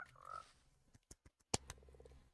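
A frog in the Minecraft video game croaks in a few short, separate bursts, close and clear with quiet gaps between them, and a brief faint chirp comes before.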